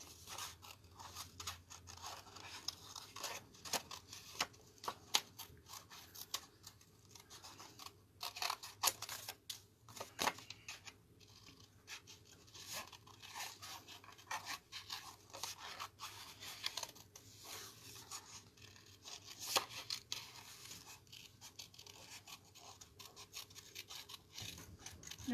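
Repeated crisp snips and rustling scrapes of scissors fussy-cutting paper, steady and close, with no voices.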